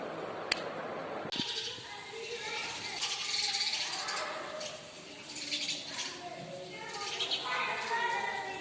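House sparrows chirp in a home setting, bright repeated tweets scattered through the stretch at moderate volume, partly under a person talking.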